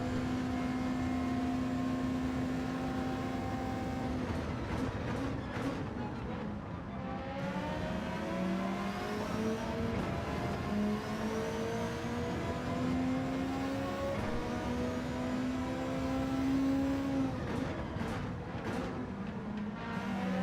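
Race car engines, including a GT500 Supra, whine and rev continuously in a racing video game, with rising and falling pitch as gears shift and cars jostle, a dense, steady mechanical drone.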